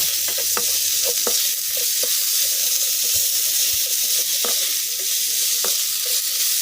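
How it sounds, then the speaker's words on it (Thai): Minced pork being stir-fried in a pan as a savoury filling: a loud, continuous sizzle with repeated scrapes and taps of the spatula against the pan, and no talking. "พอเราผัดมาเรื่อย ๆ ค่ะหมูสับก็เริ่มสุกได้ที่แล้วนะคะ"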